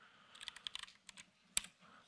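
Clicky keystrokes on a computer keyboard that has had coffee spilled into it and double-types one key, a quick irregular burst of taps followed by one sharper, louder clack, close and alone with no talking.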